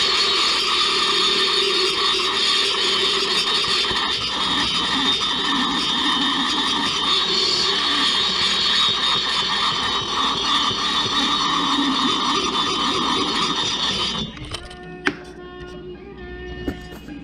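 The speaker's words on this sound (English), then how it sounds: "This is a pretty aggressive cutter. Does a real nice job." A rotary cutter grinds metal while porting the cylinder of a Husqvarna 61 chainsaw, a loud, steady high-pitched whine that runs unbroken before cutting off near the end, leaving faint clicks.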